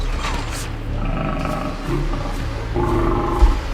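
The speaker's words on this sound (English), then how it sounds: "There is nothing between us and this lion right now." A lion gives low, rumbling roars and growls up close, the deep guttural sound rising and falling in uneven bursts throughout.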